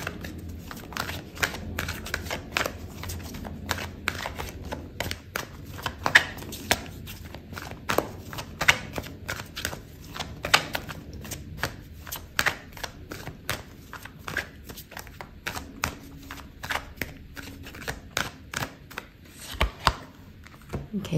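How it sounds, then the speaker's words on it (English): Tarot cards are shuffled continuously, giving a long run of close, sharp, irregular slaps and flicks, quiet and steady, without speech. "I'm gonna pull out another card for you"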